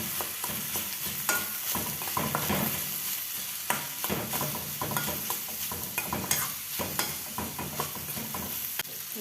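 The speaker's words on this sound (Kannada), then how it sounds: "ಚೆನ್ನಾಗಿ ಎಣ್ಣೆ ಫ್ರೈ ಮಾಡ್ಕೊಳ್ಳಿ" Beetroot frying in oil for a beetroot palya, a close, constant sizzle with repeated rhythmic scrapes and knocks of a spatula stirring in the pan, no voices.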